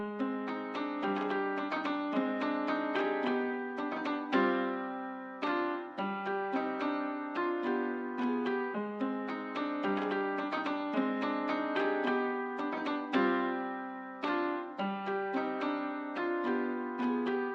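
Sampled piano for a dark trap beat, processed with the London Rain technique, playing a steady progression of sustained chords and melody notes, full and even in level, alone without talk.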